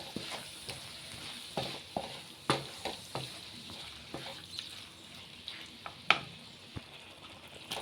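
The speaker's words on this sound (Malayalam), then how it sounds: "ഇതിനകത്ത് അരച്ച് വെച്ചിരിക്കുന്ന അരവ് കൂടി ചേർത്ത് കൊടുക്കാം. എന്നിട്ട് നന്നായി ഇളക്കി കൊടുക്കുക." A spoon stirs ridge gourd theeyal after ground coconut paste goes into the pan, giving quiet sizzling and a steady series of light scrapes and clicks against the vessel, close by and with no talking.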